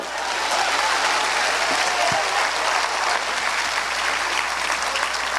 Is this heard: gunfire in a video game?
no